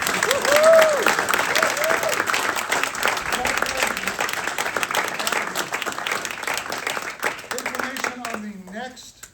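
Sustained audience applause at a membership meeting as graduates receive their certificates, dense steady clapping from a crowd throughout, with a few voices rising near the end.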